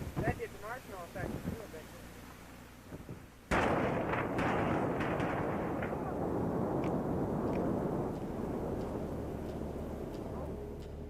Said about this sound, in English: cameraman stationed a safe distance away captured the moment of the blast